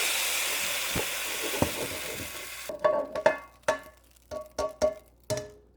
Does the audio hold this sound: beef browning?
yes